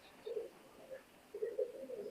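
A pair of Teddy pigeons coos softly, two low bubbling phrases with a short pause between, the second longer and fuller, fairly faint against a quiet room.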